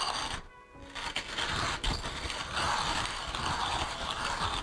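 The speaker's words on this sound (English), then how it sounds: "So I just start grinding" A hand-cranked manual coffee grinder works through espresso beans, giving a steady, close grinding and crunching rattle that runs continuously after a brief pause near the start.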